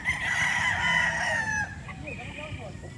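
A Boston Roundhead gamecock crows once nearby, a loud drawn-out call that trails off after about a second and a half, followed by softer clucking and farmyard murmur.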